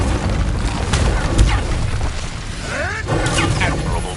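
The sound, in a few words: Incendio fire spell being cast in a Harry Potter video game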